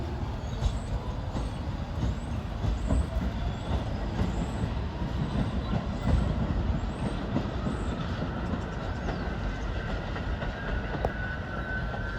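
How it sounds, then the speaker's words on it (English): A Staten Island Railway train bound for St. George rumbles past Oakwood Heights, seen from a footbridge, in a steady, loud roar with faint wheel clatter and high squeals, no voices. "Should have a St. George train coming."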